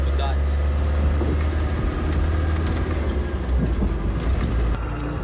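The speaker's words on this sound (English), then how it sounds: "The engine sounds really nice, well tuned" The engine of a 1994 Land Rover Defender runs with a loud, steady low rumble close by, under faint road and cabin noise.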